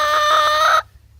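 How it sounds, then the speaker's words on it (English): A hen clucks loudly and close by in a quick, chattering run of harmonic calls that cuts off abruptly near the end. A faint low background hum remains afterward. "That's another thing about chickens. They're quite chatty."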